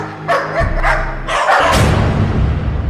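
A dog barks and yelps repeatedly in a loud, close sound effect for a Hindi horror story, the sharp calls coming in quick clusters over a dark, rumbling low background.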